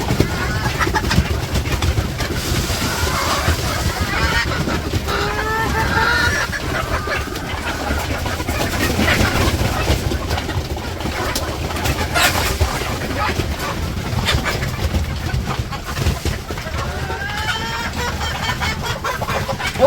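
Village hens and roosters cluck continuously while feeding, a busy, close flock with overlapping calls and occasional louder squawks, and a voice speaks at times over the birds.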